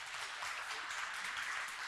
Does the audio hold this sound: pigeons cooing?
no